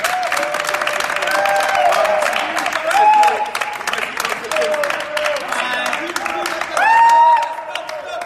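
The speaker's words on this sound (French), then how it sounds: "Et on applaudit très très fort pour lui." Audience applause at a youth football talent event, a sustained wash of clapping with bursts of cheering swelling twice, while a voice talks and occasional whistles ring over it.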